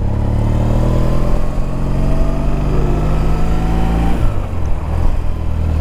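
A BMW R1200CLC touring motorcycle with a boxer engine idling loud and close with a steady, throbbing drone that shifts and drops away near the end as it is switched off.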